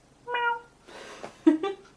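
A young woman imitating a cat with short vocal meows, a clear mewing call followed by a breathy sound and two quick meow-like bursts, close and fairly soft.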